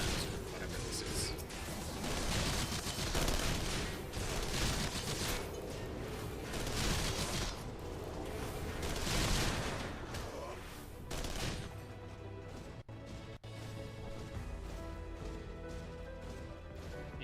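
Mini guns firing in the video game Final Fantasy XIV, dense rapid bursts of automatic gunfire with crashing impacts for about eleven seconds, then fading to quieter game sounds.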